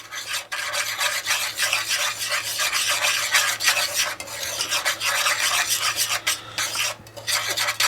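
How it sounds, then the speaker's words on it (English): A tiny whisk scrapes steadily through flour and salt in a bowl, making a continuous close, raspy rubbing with quick rhythmic strokes and no voices. "we're going to get in there with our tiny whisk and we're going to combine it all together"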